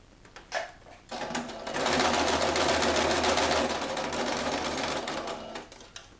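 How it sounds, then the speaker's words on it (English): A sewing machine stitching through paper whirs steadily for several seconds, a fast rhythmic stitching hum that starts after a few soft clicks and stops near the end. "And I'll just run that through the sewing machine."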